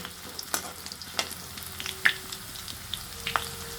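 Ginger and bay leaves sautéing in oil in a pan for an Assamese-style pork dry fry, a soft close sizzle with a few sharp spatula taps and scrapes.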